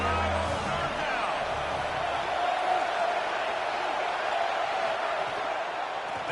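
Ohio State Buckeye home crowd in a college football video game sends up a broad, steady roar of cheering on third down, a dense continuous wash of noise with a brief low rumble early on.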